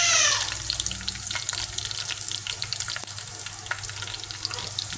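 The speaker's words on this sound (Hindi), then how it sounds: "प्याज ऑलमोस्ट गोल्डन हो चुकी है" Onions frying in a pan until golden, a steady close crackling sizzle with occasional stirring scrapes throughout, no talking.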